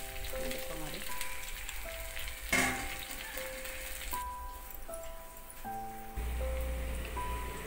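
Sago murukku sizzle in hot oil, a steady fine crackling spatter running throughout, with a brief louder burst partway through and a low rumble joining near the end.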